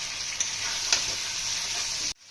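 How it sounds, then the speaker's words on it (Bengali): River fish (Ganges rita and bele) searing in hot oil in a pan gives a steady loud sizzle with a couple of stirring scrapes, and it cuts off abruptly near the end. "আমরা মাছটা ভালোভাবে কষিয়ে নেব"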